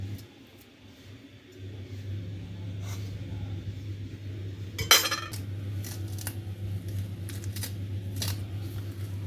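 Spinach leaves are chopped finely with a knife in a home kitchen, making sparse, sharp clicks and taps against a board over a low steady hum, with one louder clatter midway.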